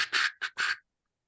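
A human voice imitates a walkie-talkie squawk with three short, harsh, nasal bursts in quick succession, close and loud, then silence.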